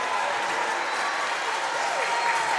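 A varsity high school volleyball crowd cheers and claps steadily in a gym, urged on by the Blue Lion bench, with the noise sustained throughout.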